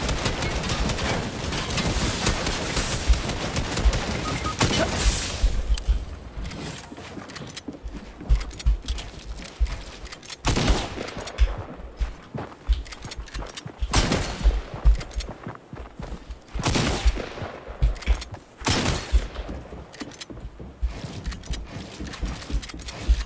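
Gunfire rattles in a Fortnite battle. Sharp shots come in repeated bursts and volleys, some close and loud and others lighter, with short gaps between flurries.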